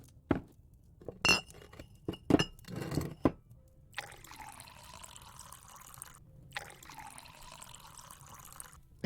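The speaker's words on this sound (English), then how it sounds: "Sam complied and poured 2 glasses of her latest batch." Moonshine is poured into two glasses, with sharp glass clinks at the start followed by a steady, quiet liquid trickle.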